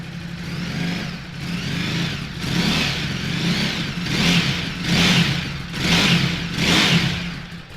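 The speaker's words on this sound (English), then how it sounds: "We'll give it a start for you." A 2018 Ducati Supersport S 937cc sports-touring motorcycle engine runs close by in a steady low rumble, rising and falling in a series of regular revs over several seconds, with no talking.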